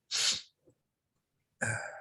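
A single loud, close sneeze bursts out, followed after a pause by a sharp sniff or breathy intake.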